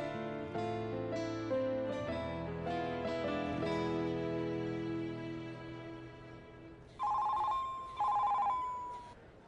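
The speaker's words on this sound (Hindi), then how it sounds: "जीनिया, जब तुम कॉल रिसीव नहीं कर सकती तो फोन रखने का क्या फायदा।" A telephone rings in a Turkish drama, sounding as two loud, bright bursts of trilling tone near the end, after a stretch of gently descending background music.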